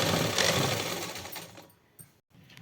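A sewing machine runs a line of topstitching beside a trouser pocket, a close, dense whir that holds steady, fades, and then cuts off, followed by a faint click.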